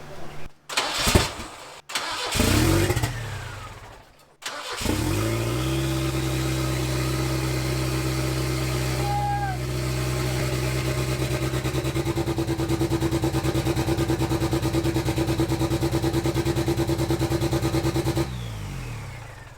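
A revived, long-abandoned Ford Ranger engine cranks in a few sputtering bursts, then catches and settles into a loud, steady idle close by, running evenly for over ten seconds before cutting out.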